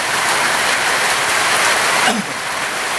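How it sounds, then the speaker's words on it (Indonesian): Steady rain pours down outdoors in a wet season, a dense even hiss that stays loud and constant, with a brief softer dip near the end. "di sini berhubung hujan, kita akan menadahi air hujan"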